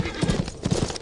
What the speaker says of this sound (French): Ce cheval est blessé, père.